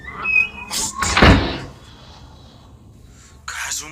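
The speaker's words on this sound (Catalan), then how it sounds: "Se m'acaba de tancar la porta." A door bangs shut in an abandoned building in a horror game, a loud thud between sharp breaths and gasps, followed by quieter room tone.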